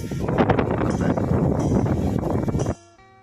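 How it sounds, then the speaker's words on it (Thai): Strong wind blows hard and steadily on Khao Phaya Doen Thong mountain in Thailand, a loud rushing roar like heavy rain, then cuts off abruptly near the end. "ลมแรงมากหนักมากพัดเหมือนอย่างกับเสียงฝนตก"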